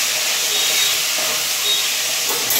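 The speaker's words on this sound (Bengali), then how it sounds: "এই জন্য মাছগুলোকে ভেজে নিচ্ছি।" Fish frying in a pan, a steady hissing sizzle that fills the whole stretch at an even, fairly loud level with no voices.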